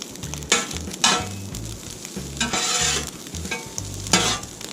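Philly cheesesteak meat and veggies cooking on a Blackstone griddle, a spatula tossing them in repeated scraping bursts over a steady sizzle, with a low musical backing underneath.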